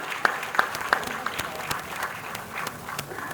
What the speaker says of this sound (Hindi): तालियों की आवाज कम ना होने दीजिए।